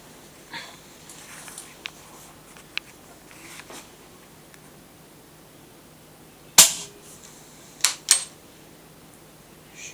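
Shots from a Shanghai QB78 air rifle charged to 120 bar: one sharp crack near the middle, then two quicker cracks close together, with faint handling noises between.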